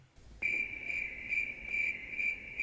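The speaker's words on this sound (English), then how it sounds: "Crickets." Crickets chirp steadily in a continuous, even trill with faint pulsing, fairly quiet and with no voices.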